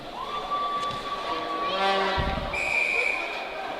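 Loud, steady roar of a high school hockey arena crowd with whistle-like tones and a brief horn blast, the din continuous throughout.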